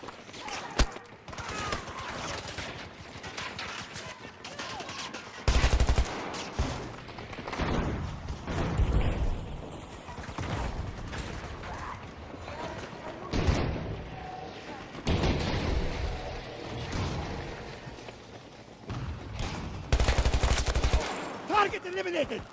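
Repeated bursts of gunfire in a first-person shooter video game, with loud broadband shots clustered in several heavy volleys around scattered single shots, partly under a player's speech.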